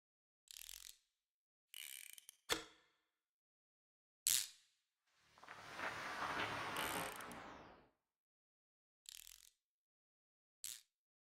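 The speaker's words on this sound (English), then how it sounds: "they're like little wrench noises, you know, to just again add to the ambiance" Little wrench-like ratcheting effects in a music track: short mechanical clicks and ratchets come in isolated bursts against silence, plus one longer grinding sweep in the middle, and no voices.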